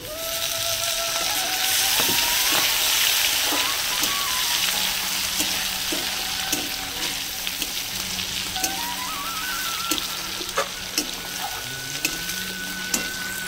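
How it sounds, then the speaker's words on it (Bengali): Chopped tomato fries in a pan with cabbage and prawns, giving a steady close sizzle and hiss that runs throughout, with a few thin whistling tones above it. "আর এখন দিয়ে দেবো আমি টমেটো কুচিটা।"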